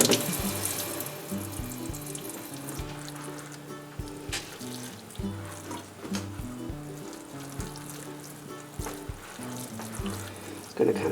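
Tap water runs steadily into a sink to wet potting soil for repotting a root-bound house plant, a close, continuous splashing stream with faint knocks and a voice speaking over it.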